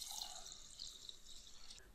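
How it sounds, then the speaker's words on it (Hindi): Water is poured into soaked rice and lentils for paper dosa batter, a soft, steady splashing hiss that stays faint throughout. "और अब मैं इसमें पानी डालूंगी।"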